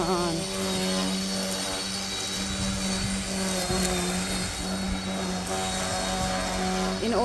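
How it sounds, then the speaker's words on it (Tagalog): A grass cutter engine drones steadily and loudly while cutting grass outdoors, a constant high whine with no break throughout. "Grass cutter ang tawag."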